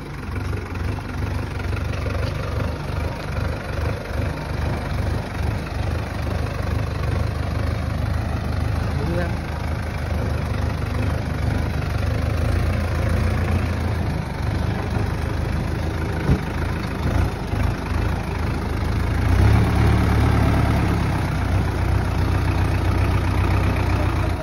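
An overheated Sonalika tractor idles while hitched to a heavily loaded trolley on rain-soaked ground. The engine gives a steady, low, throbbing rumble close by for the whole stretch, with a voice heard at times.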